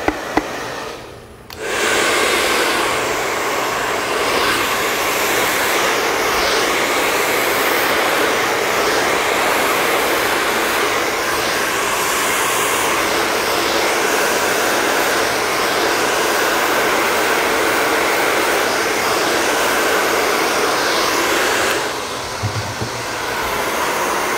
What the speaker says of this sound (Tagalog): pabot akong round brush, blower ko lang yung bangs